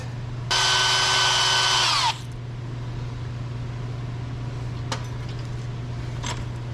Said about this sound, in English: I'm gonna get a drill, and we're gonna hone out that inner of that there a little bit.